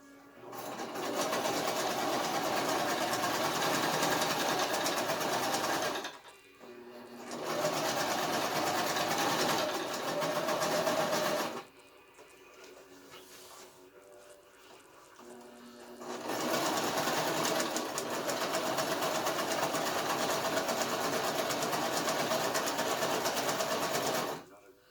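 A sewing machine stitches the edges of a thick homemade mattress pad in long, loud, steady runs of rapid whirring, broken by two short pauses where a voice briefly speaks.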